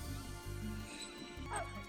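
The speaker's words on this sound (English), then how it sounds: "that's the dog" A dog gives a few yips and whimpers, along with short bow-wow barks. The sounds are faint and come from a television scene.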